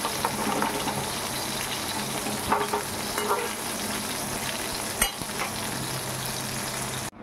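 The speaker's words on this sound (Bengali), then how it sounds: "এইভাবে কুমড়োগুলোকে ভেজে নেবো।" Pumpkin pieces frying in oil in a home Bengali kitchen give a steady, dense sizzle and bubbling throughout, with occasional stirring clatter near the middle and a brief cut near the end.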